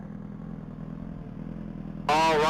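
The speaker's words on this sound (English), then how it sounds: "It's going to be Matthew Coulter and his white 2013 Suzuki Hayabusa." A motorcycle engine drones steadily at a top-speed mile racing event in Texas, a low, even rumble that holds for about two seconds before a louder, higher whine sweeps in close.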